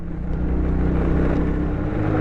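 A stock motorcycle with ordinary tires climbs a steep road, its engine droning in a strained, continuous labor close by, with wind rushing over it.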